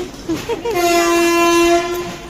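A train horn sounds a long, steady tone close by, loud and sustained over rumbling rail noise, as a train passes near Pathankot.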